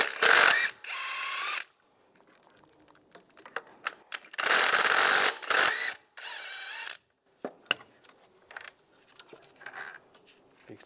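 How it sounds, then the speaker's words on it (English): Ratchet with an 18mm socket loosening bolts on a 1999-2005 Volkswagen Jetta engine mount, heard as several bursts of rapid clicking separated by quiet pauses and a few light metallic taps, close and fairly loud. "We'll take these 2 bolts out using an 18mm socket."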